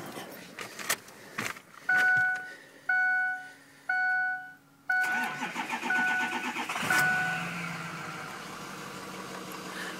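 A 2005 Ford F250 diesel 4x4 XLT pickup on a cold morning: repeated dashboard warning chimes, then the engine cranks and fires, settling into a rough, steady idle.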